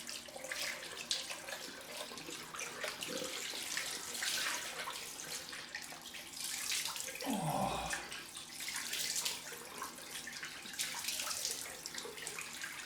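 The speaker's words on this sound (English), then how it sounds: "Run the water a little bit. Make sure it's ice cold." Cold tap water runs steadily into a bathroom sink for a rinse after shaving, a continuous close hiss and splash with a brief gurgling change partway through, no voices.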